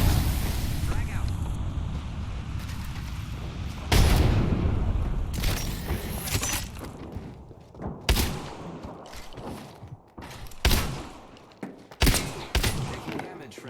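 A frag grenade goes off in a first-person shooter amid a fusillade: a loud blast early on, then scattered sharp gunshots and bursts that ring out and fade, with voices calling out between them.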